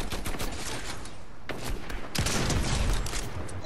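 Fortnite sniper rifle headshot, with sharp gunfire bursts cracking over continuous loud game-battle noise, with a strong blast near the middle and another heavy burst after it.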